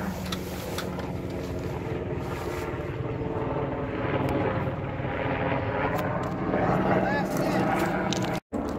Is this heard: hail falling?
no